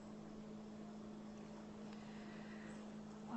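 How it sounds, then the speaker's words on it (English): Faint, distant motorboats out on the water send a low, steady drone across a quiet shoreline at sunset, with light wind and no talking. "There are boats out there."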